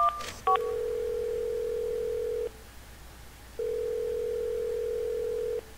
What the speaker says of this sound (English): Go to your phone, and you can actually dial numbers.